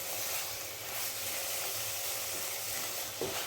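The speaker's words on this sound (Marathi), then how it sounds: "ओल्या नारळाचं खोबरं आपल्याला ॲड करायचं आहे आणि व्यवस्थित असं आपल्याला पूर्ण ड्राय म्हणजे सुकं होईसपर्यंत पूर्ण आपल्याला परतवून घ्यायचं आहे" Fresh grated coconut roasts in a pan, giving a steady, soft sizzling hiss with faint scraping as it is stirred continuously, close by and with no voices.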